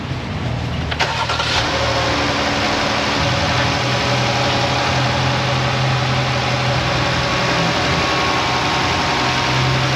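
A car engine with its intake plenum removed cranks and catches, then settles into a loud, steady, close-up idle with a constant low hum and rough mechanical texture, no talking.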